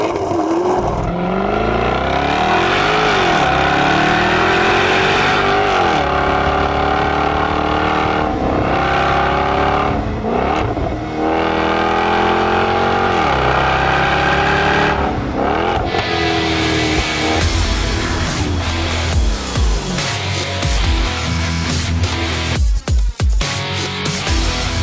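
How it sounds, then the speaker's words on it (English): A 2014 Jaguar XKR-S with a 5-litre supercharged V8 accelerating hard, loud and close, its engine note climbing and falling through repeated gear changes over a sustained run, with no talk. "Under the XKRS's massive hood, you'll find a 5-litre supercharged V8 boasting 542 brake horsepower and 501 pound-per-foot of torque."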